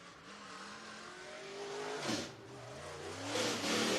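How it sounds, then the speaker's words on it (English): Drag race cars at Whynot Motorsports Park's Fall Classic roar down the racetrack, engines revving with rising and falling pitch, loud and close, with a brief surge of acceleration near the end. "Next couple of drivers out there on the racetrack."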